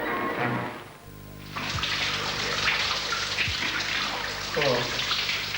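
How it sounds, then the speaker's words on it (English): Shower water running in a bathroom during a 1980 round-Australia reliability trial, a steady rushing spray that cuts in after a brief quiet gap, with faint splashes and no speech. "Boy, does that shower feel good."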